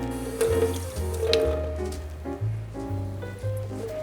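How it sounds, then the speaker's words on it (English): Water pours from a tap into a bowl of egg wash in a kitchen, a fairly close trickling and splashing that shifts in pitch as it runs, with no talking over it. "Add a little water to this."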